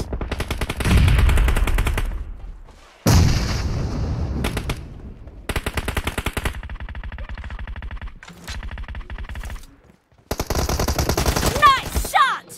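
Bursts of rapid automatic gunfire in the battle royale game BGMI, several loud rattling volleys separated by short pauses, with a brief voice near the end.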